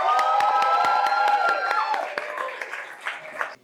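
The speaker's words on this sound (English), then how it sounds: "So give them a round of applause." An audience applauds at the start of an indie game studio talk, the clapping sharp and irregular over a crowd murmur with a sustained whoop, thinning out toward the end.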